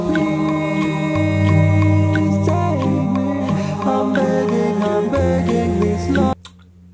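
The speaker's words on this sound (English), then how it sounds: "And if I put on the metronome," A song in 6/4 time plays with steady, sustained tones, with faint regular metronome clicks keeping time, before cutting off abruptly near the end.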